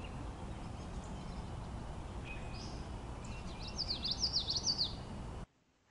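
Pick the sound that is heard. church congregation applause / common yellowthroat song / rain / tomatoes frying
common yellowthroat song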